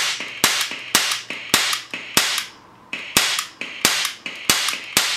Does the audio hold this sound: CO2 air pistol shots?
yes